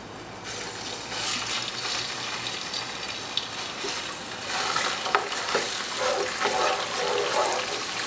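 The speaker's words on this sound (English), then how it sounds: "we're going to fry the ginger and garlic paste into the oil just a little bit" Ginger and garlic paste hits hot oil and fries, a dense close sizzle that swells and crackles while it is stirred around the pan, with no speech.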